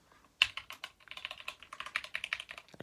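Mechanical keyboard with switches lubed using WD-40: quick, fairly quiet clusters of keystrokes clatter in an irregular rhythm, beginning with one sharper press, close up with no talking.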